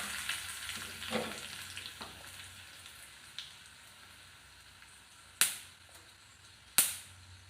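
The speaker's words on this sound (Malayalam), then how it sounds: "ഇച്ചിരി കറിവേപ്പിലയും വറ്റൽമുളകോട് ഇട്ട് കൊടുക്കാം" Curry leaves and dried red chillies drop into hot oil with fenugreek for a pickle tempering, giving a soft frying hiss broken by several sharp, loud spluttering pops, close and with no talk.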